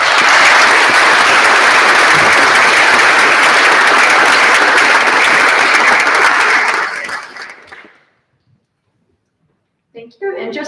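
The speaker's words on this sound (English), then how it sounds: "I think we should give them a round of applause for all of their work." A full audience gives a round of applause at a national debating tournament grand final: loud, dense clapping that holds steady for about seven seconds, then fades to silence before a short burst of sound near the end.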